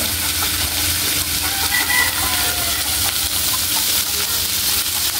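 A rooster crows over a steady loud sizzle of pakbet vegetables cooking, with faint clucking in a busy, noisy background.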